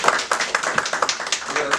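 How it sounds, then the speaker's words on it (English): A small audience at a museum talk claps for about two seconds, sparse uneven hand claps heard nearby with voices murmuring underneath. "so if we could give a round of applause to Jennifer."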